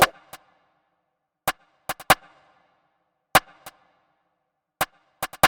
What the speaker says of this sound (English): This is the snare. It's actually a rim.